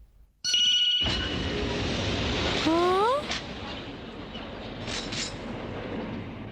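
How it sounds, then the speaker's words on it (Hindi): A cartoon toy train in an old Doraemon episode starts up with a rising whistle-like electronic tone, then a steady rumbling chug runs on at moderate loudness. "ये तो सच में एक ट्रेन लग रही है"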